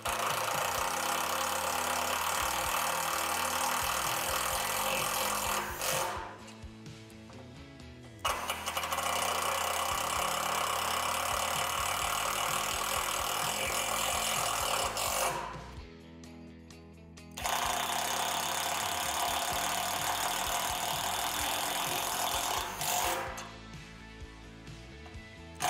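A power driver sinks self-tapping screws into the metal poles of a Lifetime portable Mammoth Series system with a 50-inch tempered glass board: three long, loud whirring bursts of about six seconds each, separated by short pauses.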